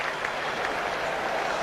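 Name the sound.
cricket stadium crowd applauding a boundary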